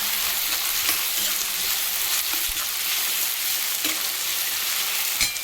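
Tomatoes frying in a pan for pumpkin curry (gummadikaya pulusu), a steady loud sizzle with faint stirring scrapes and a sharp clink near the end, no voices.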